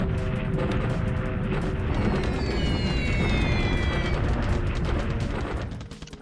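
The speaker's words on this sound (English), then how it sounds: "A normal bombing of Cebu here." Air raid on Cebu in a WWII strategy game, a dense continuous roar of explosions and rumbling blasts with whistling falling tones, loud and sustained before cutting off.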